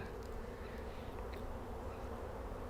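Honey bees buzz steadily around strong backyard beehives on a cold late-winter day, a dense continuous hum with no talking.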